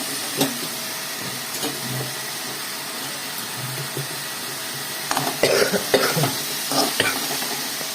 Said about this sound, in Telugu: చూడండి బీరకాయ కూడా కొంచెం కొంచెం ఉడికితే దాంట్లో వేసేస్తాను నేను